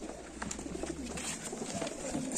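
Pigeons coo inside a coop holding many birds, soft repeated throaty calls overlapping at close range over a faint background hum, without speech.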